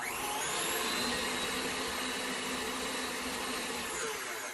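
A stand mixer whirs steadily while mixing paleo banana bread batter, a loud, continuous motor drone that holds nearly unchanged from start to finish with no voices over it.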